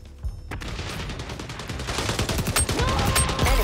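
Rapid pistol shots crack in quick succession during a match of the video game XDefiant, loud and close, over steady game background noise with faint talk underneath.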